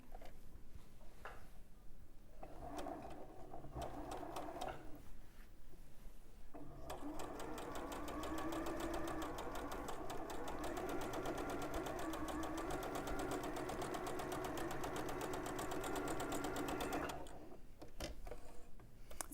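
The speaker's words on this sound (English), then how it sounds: "So now I sew directly on that line." A domestic sewing machine stitching quilt fabric along drawn lines runs in short bursts at first, then settles into a steady, rapid mechanical whirr and tick for about ten seconds before stopping, fairly faint and close.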